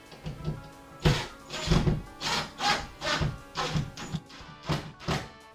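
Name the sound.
tightening screws on wall cabinets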